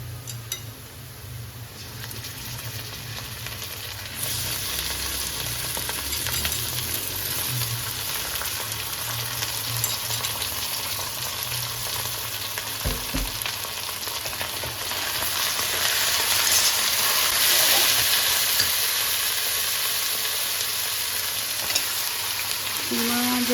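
Minced meat frying in a pan with lightly browned onions, a steady loud sizzle filling the whole stretch and growing a little stronger toward the end, with occasional stirring scrapes and no talk.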